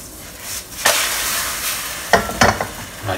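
Egg foo young omelette frying in a pan, a loud steady sizzle that swells as the eggs hit the oil, with spatula scrapes and taps as it is moved around, close and without talk.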